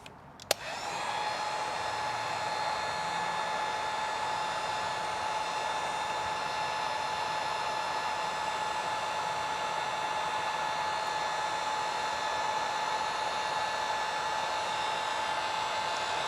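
A heat gun blows hot air in a steady, loud whooshing roar with a fixed whine, running unbroken after a brief click at switch-on, close by during a 48V battery build.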